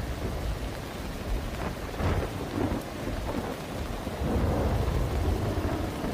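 Heavy monsoon downpour in Ranavav, Porbandar district, Gujarat, pours as a loud, dense hiss with rolling thunder rumbling through, swelling louder near the end.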